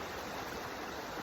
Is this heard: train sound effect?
no